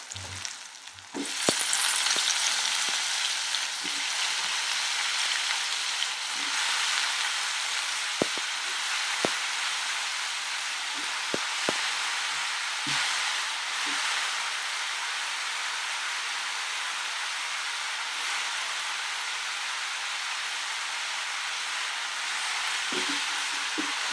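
Brinjal pieces fry in a pan of hot oil for brinjal biryani, a dense, even sizzle running steadily throughout with occasional faint clicks and taps of a utensil.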